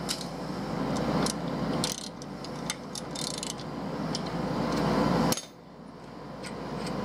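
An installation tool presses a crank sprocket onto an SRT4 engine with a close, steady mechanical grinding and ratcheting, punctuated by sharp metallic clicks, ending abruptly in a quieter hum.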